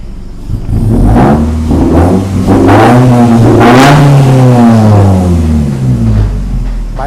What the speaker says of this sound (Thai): เดี๋ยวฟังเสียงเครื่องกัน